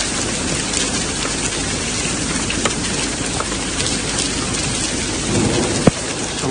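Dense, steady rain and hail pounding down during a desert storm in Hail, a loud continuous hiss with scattered sharper impacts and one brief knock near the end.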